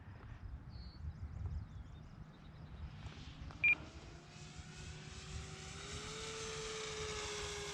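A radio-controlled Cirrus SR22T model airplane with a 4S electric setup flies overhead, its motor tone rising and sweeping steadily louder as it climbs and passes, over outdoor background noise with a short beep.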